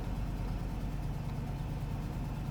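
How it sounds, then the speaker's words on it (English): A 1997 hearse engine idles steadily at close range, a constant low rumble with no talk over it. "No, it's idling good now."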